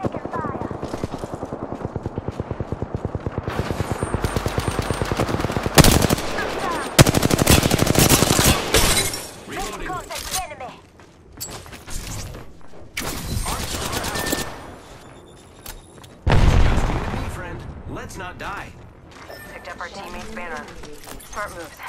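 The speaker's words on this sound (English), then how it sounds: "I'm spotted. Taking fire." Rapid machine-gun bursts and sustained gunfire from the video game Apex Legends rattle loudly and repeatedly, with brief pauses between exchanges, mixed with game effects and spoken callouts.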